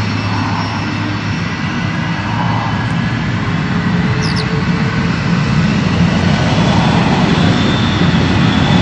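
A Cathay Pacific Boeing 747-412 jet takes off at Heathrow, producing a loud, continuous roar of jet engines that rises steadily, broad and rumbling, with a faint high whine on top.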